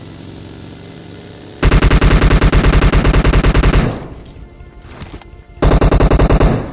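Loud rapid machine-gun fire from a mobile battle royale game comes in two sustained bursts of evenly spaced shots, with a quieter stretch of scattered shots between them, heard close and dominant.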